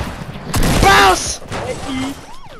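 Gunfire in the Fortnite video game: a sharp burst of shots, then a second quieter volley, with a player's excited voice talking over it.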